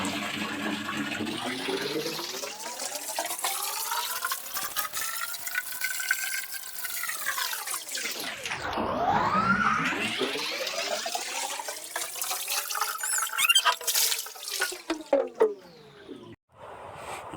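Clothes being hand-washed in water at a village home, a steady run of splashing and sloshing close by that dips briefly midway, then resumes with scattered drips and clatters.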